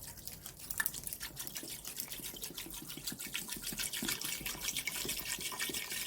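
Plain water glugs from a gallon jug into a cooking pot for collard greens, a close, quiet pour with rapid bubbling gurgles that steady into a continuous trickle.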